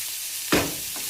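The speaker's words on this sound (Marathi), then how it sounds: "त्याला चांगलं भाजू द्या कांदा लाल होईपर्यंत" Onions frying in a pan, a steady sizzle with one sharp stir or scrape midway, close and alone.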